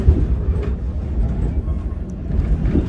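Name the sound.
passenger train running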